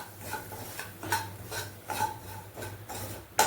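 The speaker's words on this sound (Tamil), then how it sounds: "இப்போ ரவையும் இதிலே போட்டுருவோம், போட்டு ரவையும் இதில் போட்டு கிண்டுவோம்." Semolina (rava) being stirred in a pan for kesari bath: repeated soft scraping strokes every half second or so, with occasional utensil clinks and a steady low burner hum, close and fairly quiet, no talk.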